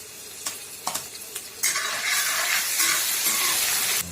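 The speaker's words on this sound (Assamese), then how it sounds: "আদা নহৰু কেঁচা গোন্ধ যোৱালৈকে আমি এইখিনি ভাজি থাকিম।" Ginger garlic paste frying with browned onions in a pan: a few sharp stirring scrapes, then a loud, steady sizzle that runs to the end, with no voices.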